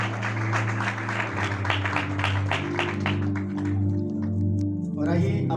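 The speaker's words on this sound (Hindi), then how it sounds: "तालियां खुदा उनके जलाल के लिए बजाते हैं।" Applause from a church congregation, a dense, steady patter of many hands clapping over sustained musical tones, tapering off near the end.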